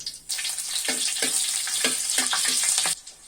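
Green chilies, bay leaves and five-spice frying in hot mustard oil, a bright hissing crackle that starts abruptly, pops and spits in bursts for a few seconds, then cuts off.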